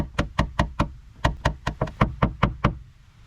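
Metal punch hammered against a dented Jaguar body panel, a dozen sharp knocks in a steady, even rhythm, close and loud with no talk.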